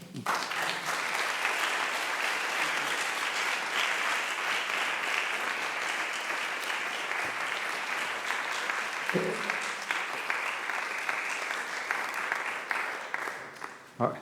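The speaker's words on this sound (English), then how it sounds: "I think the applause indicates the interest and fascination of this strange, surprising, very, very interesting story." Audience applause at the close of a conference lecture on Western sculpture in Japan, dense and steady for about fourteen seconds at even loudness, with a few faint voices beneath before it tapers at the very end.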